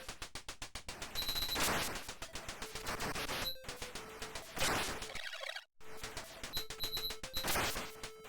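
Rapid gunfire and bullet sounds from the Capcom arcade shooter Vulgus crackle almost nonstop in dense bursts, mixed with bright electronic dings and a short break of near-silence partway through.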